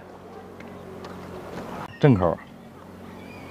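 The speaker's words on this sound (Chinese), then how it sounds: "看到摩托艇又来了。" A jet ski passes on a rural reservoir while someone fishes for carp, its engine a steady low drone in the background, with a brief burst of a voice partway through.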